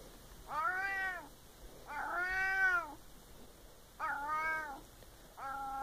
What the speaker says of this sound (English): Really just meowing constantly.